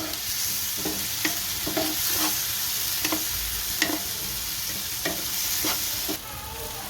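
Salt, chili powder and spices sizzle in a pan for a desi chana curry while a spoon stirs and scrapes, with a steady bright frying hiss underneath and periodic clinks and scrapes, close and fairly loud, no voices.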